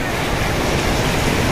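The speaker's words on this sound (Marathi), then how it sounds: "तर अशा लाटा येतात." Sea waves wash steadily onto Juhu beach in Mumbai, a continuous loud roar of surf with no break across the short stretch.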